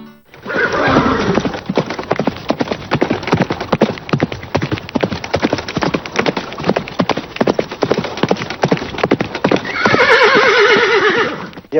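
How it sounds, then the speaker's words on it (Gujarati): A tall mare, about 65 inches high, clip-clops in a quick, loud rhythm on a hard surface, with a close whinny near the start and another toward the end. "તેમની પાસે પાસઠ ઇંચની ઊંચાઈ ધરાવતી આકર્ષક ઘોડી છે જેનું નામ છે દેવસેના"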